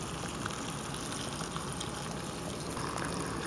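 Water gushes steadily from a hose onto a tomato plant in a drought-stricken Arkansas garden, a continuous close splashing rush with no pauses and no talk.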